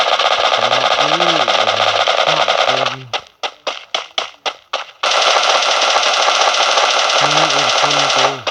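Rapid automatic gunfire in a video game rattles out in a tight burst of about eight sharp shots, loud and close, between stretches of dense game noise and a voice.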